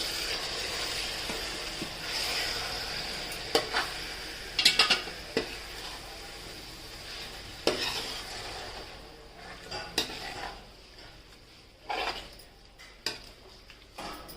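Marinated chicken for an Andhra Bhimavaram-style chicken pulao fries over a steady sizzle while a spoon stirs and scrapes the pan, with sharp metallic clinks scattered through.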